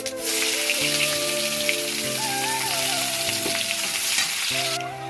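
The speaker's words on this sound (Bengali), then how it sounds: "তেল গরম হয়ে গেছে, দিয়ে দেবো হালকা করে জিরে ফোড়ন, দিয়ে দেবো কুচিয়ে রাখা পেঁয়াজ" Cumin seeds and chopped onion hit hot oil in a pan, setting off a loud, continuous hissing sizzle that holds steady for the whole stretch with a faint tune underneath.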